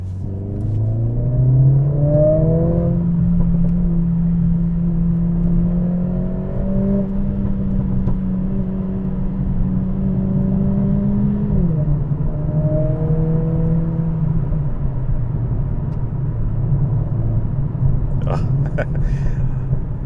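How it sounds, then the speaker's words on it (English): A Mercedes CLA45 with a new aftermarket exhaust is driven hard on a road, its engine droning low and steady with rising revs and gear changes, and a few sharp crackles near the end. "And the exhaust is popping on point."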